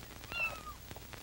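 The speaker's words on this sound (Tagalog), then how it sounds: "Kawawa naman itong kuting, ha?" A single kitten meows in a thin, rising and falling cry lasting under a second, fairly close and clear over quiet background, with no talking.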